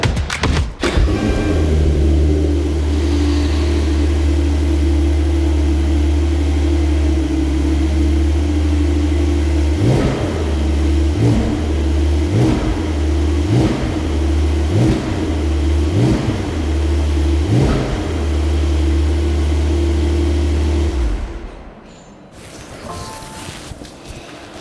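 Brabus 820 built on a Porsche 911 Turbo S, engine firing up with a loud burst, then a steady deep idle broken by six sharp throttle blips in a row before cutting off.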